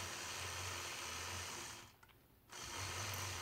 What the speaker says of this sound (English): stitching in the ditch all the way around the outside of my triangle quilt block